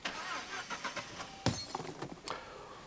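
A Saab 9-5 engine cranks and catches in a short burst, preceded by a series of small clicks and rustles near the car, with the motor settling briefly afterward.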